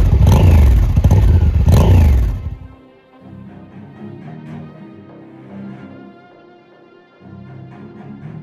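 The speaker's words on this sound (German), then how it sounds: "Was mir jetzt auch auffällt beim Fahren, ist der Sound vom Auspuff." A motorcycle's exhaust heard while riding, two loud, deep revving surges up close in the first seconds, then settling into a lower, rumbling idle with small throttle blips.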